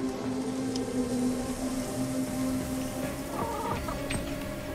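Chicken clucking in the video game Atomic Heart, a run of soft clucks over a steady game background hum, with no talk.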